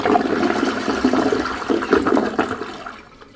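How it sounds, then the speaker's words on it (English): A Toto Drake II toilet flushing while the handle is held down, a steady close rush of swirling water that drains away and fades out toward the end. "Now let's hold the handle down."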